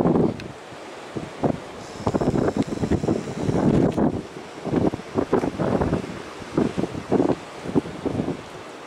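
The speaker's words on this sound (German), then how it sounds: "Immer wieder zwischendurch kommen mal starke Böen" Strong gusts from storm Sabine buffet a tent pitched on an open field in North Rhine-Westphalia, loud irregular roaring bursts that swell and drop between brief lulls.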